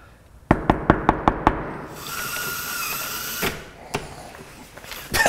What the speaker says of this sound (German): Ich werde mal klopfen.